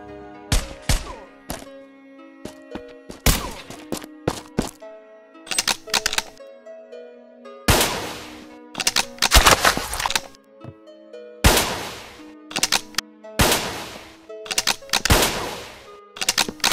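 Gunfire in the mobile FPS game Kuboom 3D, with loud, sharp bursts of rapid shots arriving in clusters separated by brief pauses, with no talking.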